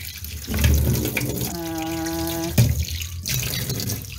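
Water runs from a tap into a container, a steady rushing stream that rises in pitch through the middle as the vessel fills, loud and close, with no talking.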